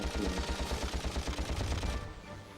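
Rapid automatic gunfire in a Ratchet & Clank boss fight, a steady burst of fast, evenly spaced shots that runs loud for about two seconds and then thins out.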